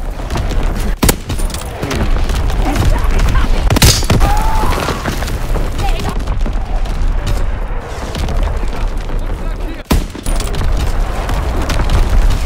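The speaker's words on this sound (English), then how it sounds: "Incoming enemy artillery! Get to cover!" Enemy artillery barrage in the World War II shooter Call of Duty WWII: heavy booms and thuds land amid a constant rumble of battle and scattered gunfire, two big blasts standing out, with occasional shouting.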